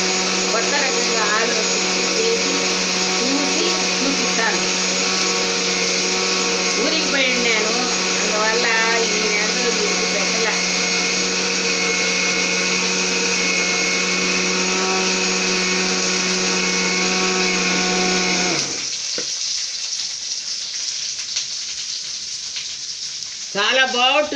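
A mixer grinder grinding black pepper into sambar powder runs with a loud, steady whirring drone for about nineteen seconds, then cuts off abruptly and leaves a quiet tail.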